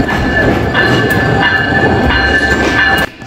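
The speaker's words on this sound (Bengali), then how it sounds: "ঠং ঠং বাজিয়ে আজকের আমাদের সীমান্ত এক্সপ্রেস ট্রেনটি যশোর রেলওয়ে স্টেশনে প্রবেশ করছে।" The Simanta Express train rolling into Jessore railway station at night, loud and close, with a heavy rumbling roar, rhythmic wheel clatter and a faint high metallic ring.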